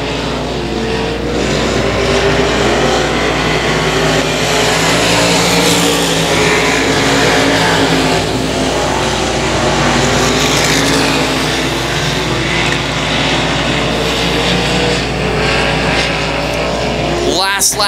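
Race cars roar around the oval at Boyd Raceway, a loud, continuous engine drone with rising and falling passes throughout, with a track announcer's voice over the top.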